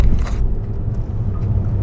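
Deep low rumble from inside a Lamborghini, a steady engine and road drone close up with a brief brighter burst at the start and no talking.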